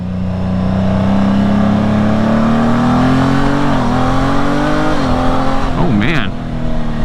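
A Honda Gold Wing GL1800 with a flashed ECU pulls hard in first gear, its engine note climbing steadily and loudly before dipping with gear changes, and a rider speaks over it.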